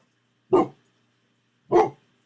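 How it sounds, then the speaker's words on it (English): Two sharp, close dog barks separated by a pause of just over a second, each short and punchy, with silence around them. "Dogs."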